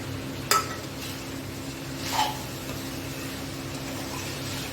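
Cauliflower sabzi (gobi bhaji) is stirred in a pan, two quick metallic clinks of a spoon against the pan over a low steady kitchen hum, otherwise quiet.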